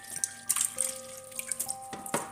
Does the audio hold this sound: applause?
no